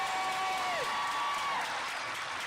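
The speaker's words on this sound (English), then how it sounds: "So let's give Melanie a huge round of applause." A crowd at the American River College 2022 commencement ceremony applauds in a steady, dense roar, with a couple of whistles rising above the clapping near the start.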